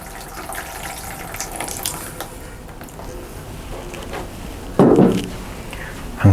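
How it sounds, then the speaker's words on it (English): Water poured into the bottom of a solid, hole-free seed tray for sowing cosmos and calendula, a steady close trickle and splash that surges louder in a brief burst near the end, with no talking. "what you want to be doing is putting some water in the bottom of that tray"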